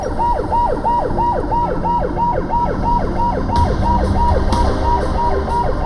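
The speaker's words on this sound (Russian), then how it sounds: "Вечер, включены спецсигналы, сирена, которую слышно за несколько кварталов." A loud, close ambulance siren wails in rapid rising-and-falling cycles, with road noise underneath.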